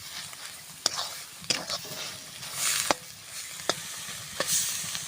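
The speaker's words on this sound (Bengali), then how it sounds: "ঘাটকলটা ভাজতে ভাজতে কত সুন্দর হয়ে গেছে, আর বোঝা যাচ্ছে ভাজা হয়ে গেছে।" Ghetkol, a wild arum tuber gathered from the fields, is stirred and fried in a pan in a village kitchen; a soft crackling sizzle runs under sharp spoon scrapes and taps that come every second or so.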